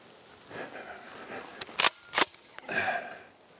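A gunshot during an elk hunt at a Rocky Mountain ranch: two sharp, brief cracks close together in the middle, set against a quiet outdoor background with faint rustling and murmuring voices.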